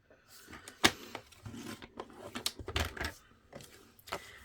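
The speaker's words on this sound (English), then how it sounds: "I'm going to score at 3/4 inch, and then I'm going to rotate and I'm going to score at the top at 1 inch" Cardstock scored for a slim-line card with a scoring tool, heard as close, dry scraping and clicking strokes with a sharp snap near the start and a few irregular taps and rubs after it.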